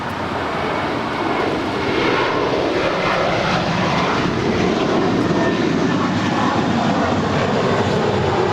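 An airliner landing on runway 25 right at Los Angeles LAX airport, a steady, loud broadband engine roar that holds throughout and swells slightly as it passes close by, with no talk over it.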